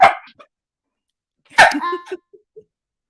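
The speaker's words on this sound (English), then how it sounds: "Hello, little dog." A small dog barks sharply twice, close and loud, with short yips trailing after each bark and quiet gaps in between.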